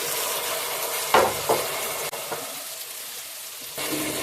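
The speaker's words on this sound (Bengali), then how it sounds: "কন্টিনিউ মশলাটা নাড়তে হবে।" Masala spices sizzle steadily in a hot pan for a Bengali katla kalia fish curry, with a few louder scraping stirs cutting through the continuous frying hiss.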